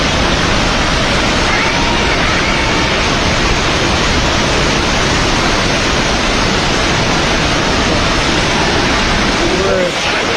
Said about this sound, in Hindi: नेपाल के अंदर घुसते वक्त ये पानी की हालत आप देख रहे हैं